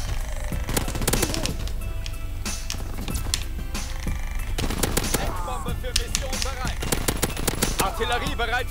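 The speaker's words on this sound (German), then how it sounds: "Immer diese scheiß Pumpgun, die ruiniert das ganze Game." Gunfire in a Call of Duty match includes pump-shotgun blasts. Sharp shots crack repeatedly among other in-game weapon fire and effects, and a player talks now and then.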